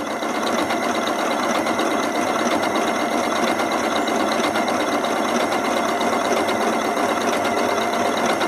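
A sewing machine stitches applique blocks, running steadily and evenly with a fast mechanical chatter from start to finish, close and continuous, with no voices.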